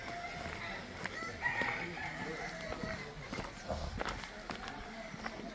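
Free-range desi chickens in a poultry farm shed, with clucking and scattered rooster-like calls over a steady rustling background, mixed with footsteps and faint movement. Nobody speaks.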